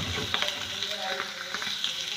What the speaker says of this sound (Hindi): उसके बाद आप इसमें ऐड करेंगे थोड़ा सा मशरूम, बिल्कुल लो फ्लेम पे आप इसको पकाना है